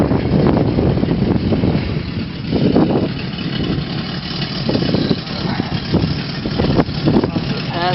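A 1966 Pontiac LeMans with a 389 engine and single exhaust idles with a steady low rumble, close by, while someone talks over it and wind buffets the microphone.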